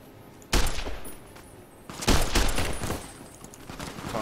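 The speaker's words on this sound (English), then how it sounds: "It's just a fucking hellfire of guns" Heavy gunfire in Fallout New Vegas, loud overlapping volleys of shots bursting in at intervals, with a sharp blast early, a dense rattling barrage in the middle and sustained echoing fire trailing off, no talk.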